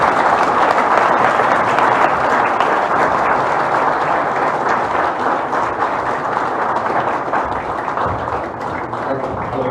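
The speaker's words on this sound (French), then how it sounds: "M. Yassine Idriss Diallo, que je vous prie d'applaudir." Applause from an audience at an election event for the Ivorian football federation (FIF), steady dense clapping and crowd noise sustained for about ten seconds, loud and close, slowly tapering toward the end.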